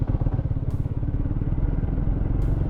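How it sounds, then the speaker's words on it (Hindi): A Triumph Speed 400 motorcycle pulls hard in fourth gear, its engine a loud, steady, close throbbing drone that holds throughout with no talk. "और अगर मैं इसको चौथे गियर में खींचूँ तो"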